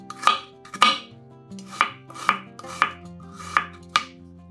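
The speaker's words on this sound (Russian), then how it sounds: "Одну луковицу нарезаем небольшими кубиками." A knife chops an onion into small cubes on a cutting board in seven crisp, evenly spaced strokes, close and clear with quiet pauses between.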